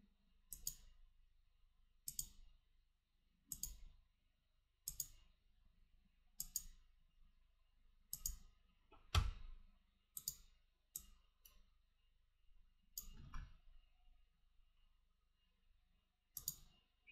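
Computer mouse clicking, a dozen or so crisp, quiet clicks spaced every second or two with silence between them, with no talking.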